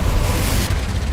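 A Confringo fire spell blasts in Hogwarts Legacy combat, a loud, dense burst of explosive noise that fills the whole moment, with a brief dip partway through and no voices.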